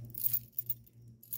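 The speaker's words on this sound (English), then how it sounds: "I'm just getting my keys here." Metal keys jingle and clink in short, light bursts inside a home workshop, heard close by over a low background hum.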